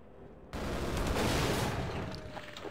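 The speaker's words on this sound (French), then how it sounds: "alors ça va être l'occasion d'utiliser les grenades" Explosions and gunfire in a video game, with grenades going off: a loud burst of blasts breaking in suddenly after quiet, then a sustained rolling roar of fire that slowly fades.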